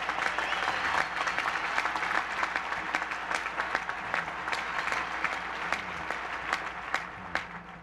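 An audience at the Illinois State Fair applauds generous Illinois farmers, a sustained wash of clapping from a large crowd with crisp individual claps standing out throughout, steady and fairly loud.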